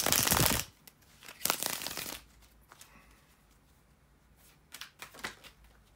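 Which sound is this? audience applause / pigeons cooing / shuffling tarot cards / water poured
shuffling tarot cards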